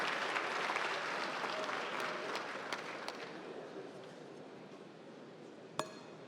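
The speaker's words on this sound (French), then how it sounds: "Je demande aux Gabonais de l'applaudir." A forum audience claps for the president in a steady, dense burst of applause that slowly thins, with one sharp clink near the end.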